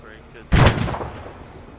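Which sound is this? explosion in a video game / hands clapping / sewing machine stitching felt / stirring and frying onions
explosion in a video game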